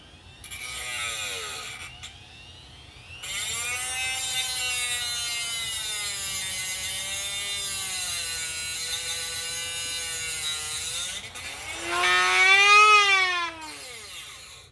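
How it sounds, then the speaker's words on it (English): A Dremel rotary tool grinds down a part of a mini 4-inch electric chainsaw. The high whine dips in pitch under load, stops briefly twice, then surges again near the end. "I might need to use a Dremel, so we'll pause it and I'll try that real quick."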